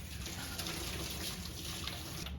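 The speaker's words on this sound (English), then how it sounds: "So let me give my hands a little wash." Hands being washed under a running kitchen tap while cooking, a steady close hiss of flowing water splashing into a sink with no talk.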